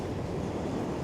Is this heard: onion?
no